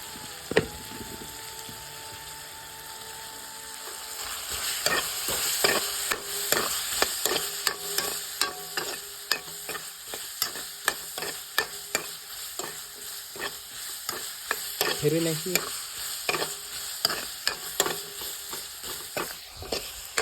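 Vegetables frying in a pan with turmeric are stirred with a spoon, giving repeated scraping and clinking strokes over a soft sizzle, close and uneven in rhythm.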